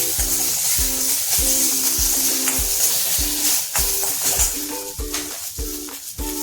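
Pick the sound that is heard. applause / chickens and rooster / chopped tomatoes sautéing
chopped tomatoes sautéing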